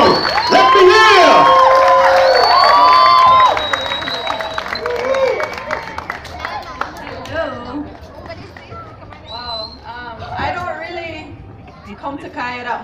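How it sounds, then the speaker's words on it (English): Crowd at a welcome event at the Cayo welcome center in Belize cheers loudly for Miss Belize, with shouts and whoops that fade after a few seconds into murmuring chatter and a voice speaking over the room. "Give her a big round of applause, ladies and gentlemen"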